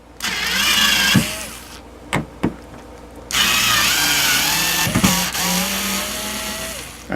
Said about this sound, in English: We're going to take the screws out.